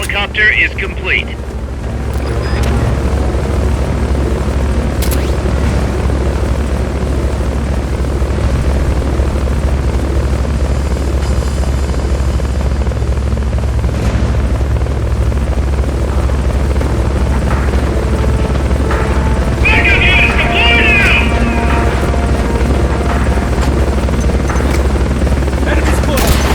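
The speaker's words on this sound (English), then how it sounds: "Fulton recovery helicopter is complete." A Fulton recovery helicopter from the Metal Gear Solid Peace Walker video game drones steadily and loudly with a low rotor rumble throughout, joined by windy noise and a couple of brief higher electronic game tones.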